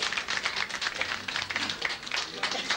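Applause breaks out for a woman who has just bought a painting at a 1997 art exhibition auction, dense scattered clapping from a crowd filling the room, steady and unbroken throughout.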